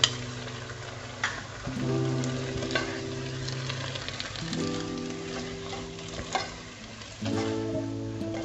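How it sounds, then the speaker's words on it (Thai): Sweet and sour shrimp with pineapple stir-fried in a pan, the sizzle steady throughout while a utensil scrapes and stirs in several bursts, close and fairly loud with no talking. "ผัดให้เข้ากันนะคะ"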